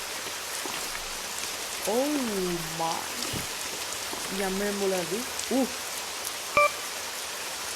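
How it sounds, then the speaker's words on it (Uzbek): Steady rain falls throughout a horror subway video game, a dense hiss with scattered drops close around the listener, while someone talks and exclaims over it and a short beep cuts in near the end. "men yomg'irda yaxshi ko'raman"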